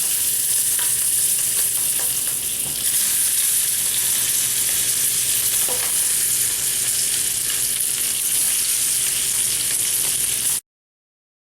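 Applewood spicy sausages fry in a pan with a loud, close, continuous hiss and crackle, occasional small pops, running steadily for about ten seconds before cutting off.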